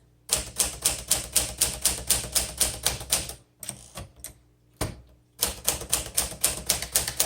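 Typing on a 1955 Smith Corona Silent Super manual typewriter: rapid, evenly spaced close keystrokes clatter in a steady rhythm, break for a few scattered clunks and a carriage return, then resume the same brisk run.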